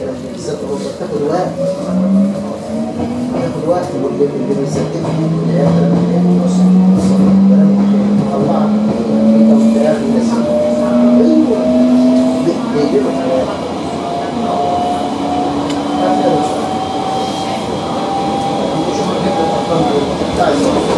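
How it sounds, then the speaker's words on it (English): An old metro train on the Rome–Lido line accelerates steadily, its VVVF traction drive whining in rising tones over rumbling wheels and car noise, continuous and fairly loud throughout, with a voice speaking at times. "the VF drives on these old trains sound really nice"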